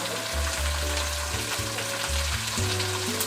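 Popcorn kernels cooking in an open pan over a high flame, a continuous loud sizzle and crackle with low rumbling underneath, steady throughout without any talking.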